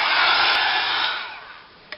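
A hair dryer blows steadily and loudly for most of two seconds to dry paint on a steampunk trinket box, then fades away, ending with a brief click.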